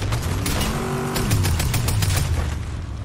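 Rapid video game gunfire rattles in a dense, continuous stream of shots during a drive-by, with vehicle engine drone underneath, loud and close throughout.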